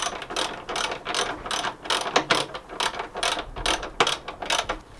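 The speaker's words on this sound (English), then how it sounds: "So now we'll just tighten up this bolt" A ratchet tightens a bolt on a Nissan Pathfinder bonnet strut bracket, its pawl clicking in quick repeated bursts of close, crisp clacks with brief pauses between strokes, and no voices.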